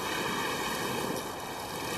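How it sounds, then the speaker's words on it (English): Rough ocean waves surge in a continuous loud roar of rushing water and spray, steady and dense throughout, with wind noise blended in. "The waves are becoming violent."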